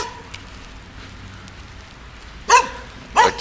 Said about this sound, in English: They like to bark for no reason.